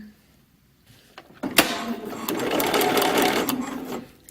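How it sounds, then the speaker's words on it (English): A sewing machine with an even feed foot stitches potholder fabric, starting with a few clicks and then settling into a steady, close mechanical whir of rapid stitching that stops after a couple of seconds. "I'm going to just be sewing and sewing and sewing for a while"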